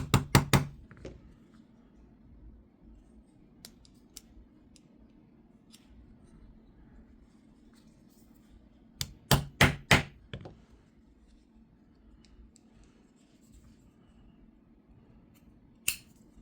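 Sharp taps of a plastic hammer on a cloth-covered Vosteed Corgi V knife, in quick clusters, a burst at the start and another midway, with a lone tap near the end, close and crisp over quiet.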